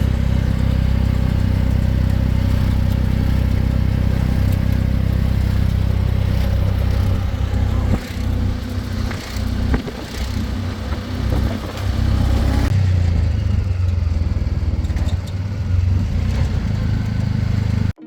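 An auto-rickshaw carries passengers along a road in Jaipur toward Nahargarh Fort, its small engine droning loud and close with rattling and clatter, the pitch rising and falling as it speeds up and slows for the whole ride.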